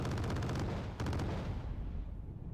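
Phalanx CIWS close-in weapon firing in Wargame Red Dragon naval combat, a rapid buzzing burst of rounds that breaks off, restarts briefly, then fades into a low rumble.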